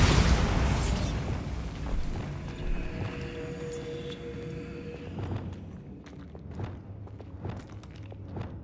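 Bombarda spell cast in the Hogwarts Legacy video game, a loud booming blast that rumbles and fades over several seconds, followed by scattered lighter thuds and steps as the noise dies away.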